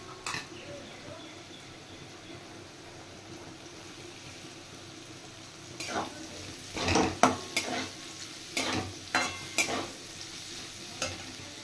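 Chopped onion goes into potatoes already frying in a pan, bringing a burst of sizzling with several spoon-and-pan scrapes and clinks over steady background frying.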